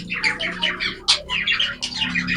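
Society finches call in quick, bright chirps and short twittering bursts, close and fairly loud, with one sharper note standing out midway; no voices.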